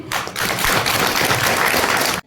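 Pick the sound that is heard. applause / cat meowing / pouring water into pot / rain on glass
applause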